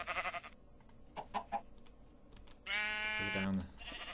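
Minecraft sheep bleat in short wavering calls, one near the start and a longer louder one toward the end, with game clicks and blocky sound effects scattered between them.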